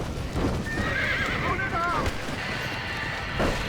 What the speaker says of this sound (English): Somebody get them horses out.